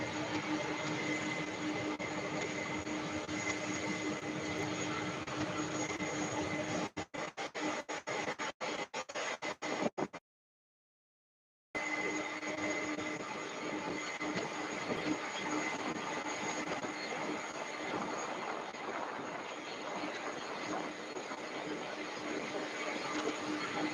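A UPS Boeing 757-200 jet at Louisville airport produces a steady, distant broadband roar that runs on, briefly breaking up with crackles and a short dropout midway before resuming.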